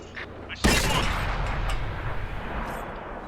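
A British Cromwell tank fires its gun in World of Tanks, one sharp loud blast followed by a long rumbling decay.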